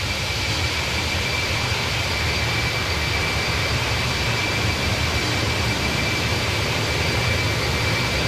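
Airbus A330 jet engines in Microsoft Flight Simulator 2024 give a steady, loud, broadband roar with a faint high whine running through it, unbroken for the whole stretch and with no talking.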